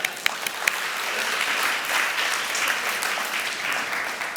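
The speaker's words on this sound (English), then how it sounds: "I suggest that we applaud now" Audience applause, a dense steady patter of many hands clapping throughout, with a few sharper claps at the start.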